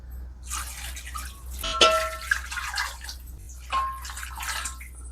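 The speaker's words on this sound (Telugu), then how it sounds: "వాటర్ వేసేసుకున్నామండి" Hot water is poured into a pot of Arabian-style chicken kabsa biryani, giving splashy pouring bursts with short pauses between them and a faint clink near the start.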